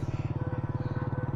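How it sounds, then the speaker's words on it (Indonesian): Motorcycle ridden slowly on a quiet night road, staged as a radio drama effect: a steady low putt-putt engine pulse with an even rhythm, moderately close, with no talk over it. "Aku pun mengendarai motor dengan pelan,"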